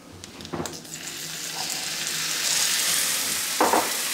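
Leberkäse and Weißwurst sizzle in oil on a barbecue, a steady close frying hiss that grows fuller midway, with a couple of brief clatters of food or utensils near the start and end.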